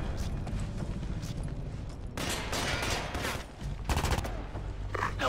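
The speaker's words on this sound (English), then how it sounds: "Taking fire!" Bursts of rapid gunfire in Ghost Recon Advanced Warfighter 2 crackle through a busy combat scene, with several loud volleys clustered near the middle and end.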